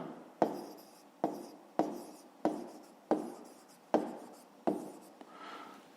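Pen strokes on paper during a fifth-grade maths exercise, seven short scratchy bursts in a steady rhythm, close and fairly quiet, with no talking.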